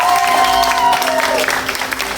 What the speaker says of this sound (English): if you guys want to give them a big round of applause again?